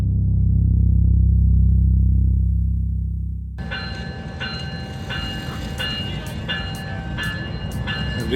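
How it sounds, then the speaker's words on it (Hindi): A GE diesel locomotive arriving for refuelling: a loud low engine rumble that drops away, then a steady mechanical roar with repeated high tonal squeals or hoots at regular intervals, close by, no talk. "रीफ्यूलिंग के लिए लोकोमोटिव आ रहा है"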